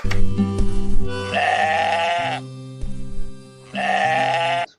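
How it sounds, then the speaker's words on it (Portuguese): Sheep in the video game Moirai bleat in two loud, close, drawn-out calls separated by a brief pause, over a low droning game background. "interagir com as ovelhas, que tem um barulhinho muito bom por acaso"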